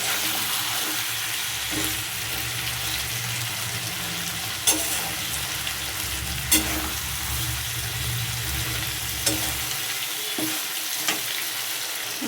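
Spiced potato and cauliflower sautéing in a pan for Bengali khichuri, a steady frying sizzle running throughout with occasional stirring scrapes and clinks, close and moderately loud, with no voices.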